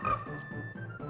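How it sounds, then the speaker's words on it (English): A frog enemy in SaGa Frontier gives low, rhythmic croaks, a repeating throaty pulse under a sustained musical tone, moderately loud and without speech. "I hear you, frog."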